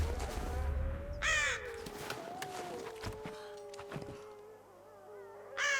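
A crow caws in the game Rise of the Tomb Raider, giving two harsh, raspy calls near the start and end over a steady hum of game ambience and soft tonal music.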